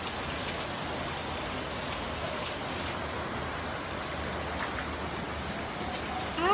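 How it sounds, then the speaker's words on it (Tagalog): Steady rain falls without a break, an even, close hiss of drops on surfaces that holds at a constant level throughout, with no voices. "It's raining again."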